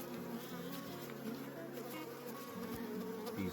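Swarm of honeybees buzzing steadily around an open hive during a spring hive inspection, a continuous close drone with faint handling noise and no talk.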